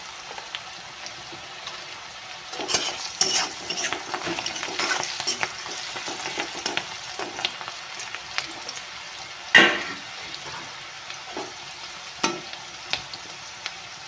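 Leafy greens with turmeric and salt are stirred in a hot frying pan, a continuous sizzle with repeated scraping spatula strokes and occasional louder knocks against the pan; nobody speaks.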